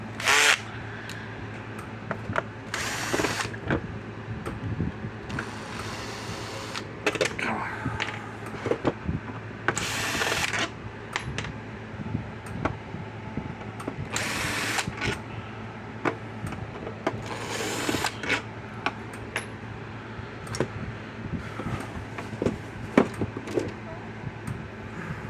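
A drill driver takes screws out of a Kencove KF6000 energizer in several short, sharp whirring bursts separated by pauses. Quiet handling noises and talk fill the gaps.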